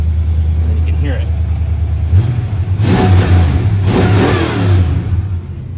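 A 1991 Delta 88 Caprice clone with an LT1 engine idles with a low rumble, then revs up twice in loud, close bursts before settling back.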